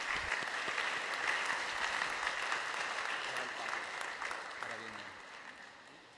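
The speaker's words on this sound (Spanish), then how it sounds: "Un fuerte aplauso para estos jóvenes." Parish congregation applauding young people at a church service, a broad steady clapping from the assembly that gradually tapers off, with faint voices underneath.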